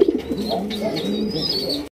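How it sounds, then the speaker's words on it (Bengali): A male Raj Golla pigeon of large size coos in a run of soft, throaty, rolling calls, close and steady throughout, with faint higher chirps in the background. "দেখেন নরের ডাকটা দেখেন"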